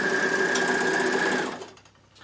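A Bernina L450 overlocker stitching off the end of fabric while making fabric weights, a steady close whirring hum for about a second and a half that then winds down and stops, with no voices.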